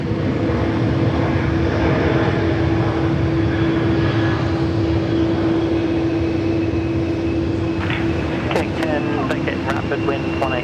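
A Link Airways aircraft flying as Velocity 640 to Canberra at Sydney Airport hums with a constant tonal engine drone and broad roar, loud and close, while a voice talks over it and a few sharp clicks sound near the end.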